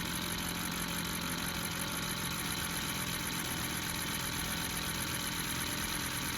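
A 6.0L dually truck engine, recently freed after being locked up, runs with a loud, steady, unbroken drone and rattle, close by, with no voices.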